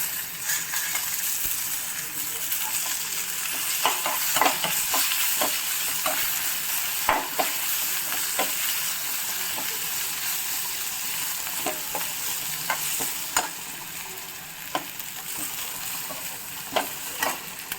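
Carrots stirred into onions frying in a kadai for pulao, with a steady sizzle throughout and repeated sharp spoon scrapes and clinks against the pan.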